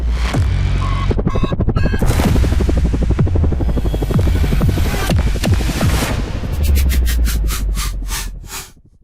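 An Airbus H-125 light civil helicopter heard up close, its rotor throbbing loud and steady with a fast beating pulse over a deep engine hum, slowing toward the end.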